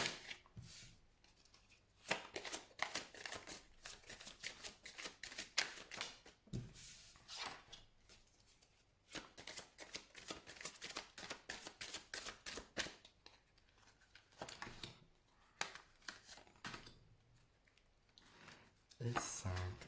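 Tarot cards are handled and dealt in a run of quick, crisp flicks and shuffling rustles, close and fairly soft, continuing for the whole stretch, with a voice speaking quietly at moments.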